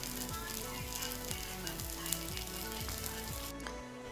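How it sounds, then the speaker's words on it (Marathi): Fasting thalipeeth flatbread frying in ghee on a pan, a continuous quiet sizzle with faint crackles, plus a low rhythmic mechanical hum beneath; no talk. "वरून टाकूयात तूप, कडेने पण थोडं तूप सोडून घ्यायचं।"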